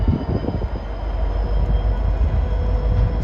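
Train locomotive engines idle and rumble with a deep, steady drone during autumn railfanning around Boston, loud and close, with no voices.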